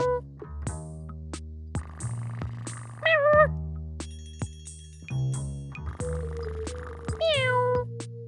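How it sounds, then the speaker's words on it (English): Cartoonish cat meows in a kids' English learning game, two rising, bright mews over plinking musical tones and short game sound effects, with no talking. "Meow."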